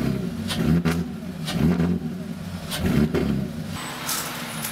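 A BMW E46 325ci engine runs very loudly in a backyard, a steady deep rumble that swells in rhythmic revving pulses roughly every second, close and continuous without talk.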